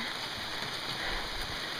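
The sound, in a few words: rain while portaging a canoe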